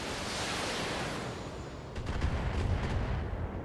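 A volley of missiles launches in the mech strategy game Battletech, a dense roaring rush of rocket fire followed by a cluster of sharper booming impacts near the end.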